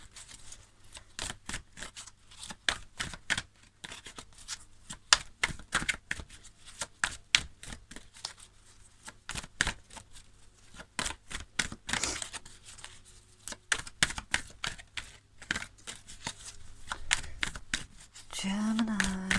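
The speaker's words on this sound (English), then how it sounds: "some viewers like to see just a very quick card shuffle on camera as well" Tarot cards shuffled by hand in a rapid riffling flurry of dense, crisp clicks and flutters that runs throughout, close and moderately loud, with brief pauses between bursts and a faint voice near the end.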